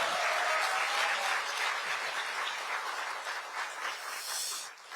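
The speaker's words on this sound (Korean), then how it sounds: "추미애 장관님한테 다시 한번 뜨거운 박수" Audience at a Korean political book concert giving a warm, sustained round of applause that fills the room steadily before tapering slightly at the end.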